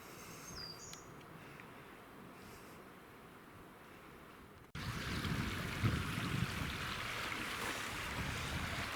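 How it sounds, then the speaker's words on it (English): A small creek in the Dolly Sods backcountry runs with a steady rushing wash, faint birdsong above it, starting softer and growing louder and closer as the crossing nears. "this is the little creek crossing"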